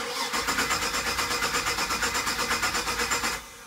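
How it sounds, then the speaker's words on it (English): A Volvo Penta 7.4 marine engine with no spark cranks without catching. The starter churns in a steady, rhythmic, loud whirring pulse for about three and a half seconds before stopping. "The engine's not starting up, so that's perfect."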